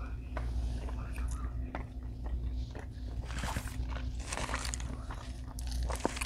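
Someone chewing shrimp from an Indian grill meal, producing close, soft crunching and mouth noises with light whispery breaths underneath.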